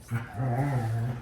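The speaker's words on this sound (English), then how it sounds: "That's the dog's. Yeah, they're playing." Pet dogs play together indoors, letting out a close, low, rumbling growl that swells and holds with a brief earlier grumble, no voices over it.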